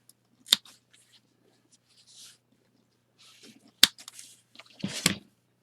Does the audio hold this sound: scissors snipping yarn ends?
yes